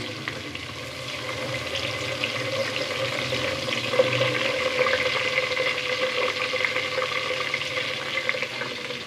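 Sliced onion frying in hot oil with bay leaf, cinnamon and green cardamom, a steady, even sizzle and crackle holding at the same level throughout with no voices.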